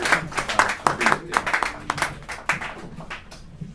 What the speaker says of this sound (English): Keep clapping until he gets up here.